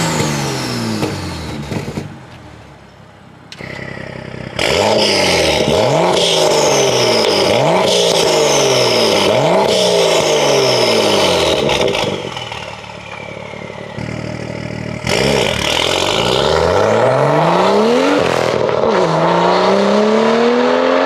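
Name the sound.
car with full titanium exhaust and catless downpipe revving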